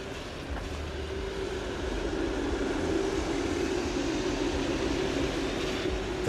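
A Helsinki number 4 tram passes along a street in Munkkiniemi on a Friday evening, giving a steady, loud rolling rumble with faint rail clatter that holds for several seconds with no voices.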